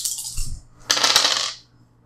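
Dice tumble and clatter across a hard surface in a tabletop game: a brief first rattle, then a louder, longer scatter of bright clicks that fades out to quiet.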